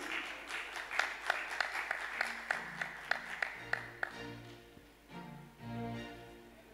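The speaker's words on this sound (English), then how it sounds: "Let's welcome Gifty with a clap" Audience at a music show claps to welcome a singer about to perform Schubert's Ave Maria: a dozen or so distinct, moderately close claps in a loose rhythm, thinning out after about four seconds as sustained tones take over.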